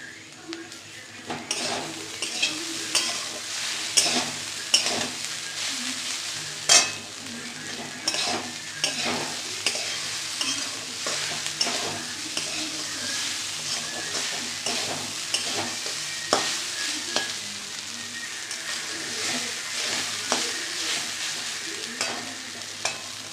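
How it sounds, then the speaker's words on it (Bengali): Flattened rice pulao with green chillies, cashews and raisins frying in a pan, a continuous sizzle under frequent rhythmic spatula scrapes and clinks against the metal, close and busy. "এটা সুন্দর করে আমি ভেজে নেব যাতে ঝরঝরা থাকে।"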